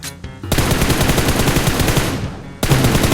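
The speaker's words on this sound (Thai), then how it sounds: "นี่ยิงขู่ยิงขู่" Warning shots from automatic weapons fire in the video game PUBG Mobile, a loud close burst of rapid gunfire that runs for about two seconds, pauses briefly and then starts again.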